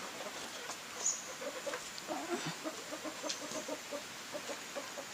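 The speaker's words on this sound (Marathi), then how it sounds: "कोंबडी आहेत काही टंगलमंगल करत असतात" Faint, distant chickens clucking in short, repeated bursts over a quiet background in the evening in the Konkan countryside, with one brief high chirp early on.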